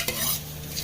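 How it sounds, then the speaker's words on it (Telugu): Garlic is being fried in oil, heard as a steady, close sizzle and hiss with a slight stirring scrape, brief and unbroken, with no voices. "ఎల్లిపాయలు కొంచెం తాలింపు వేసి కొంచెం బాగా కొంచెం మాడగొట్టినట్టు చేసేయాలి."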